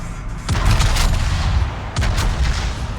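Bismarck battleship main guns firing in the World of Warships naval game, two heavy booming salvos about a second and a half apart, each followed by a long rumbling roar, loud and close with no voices.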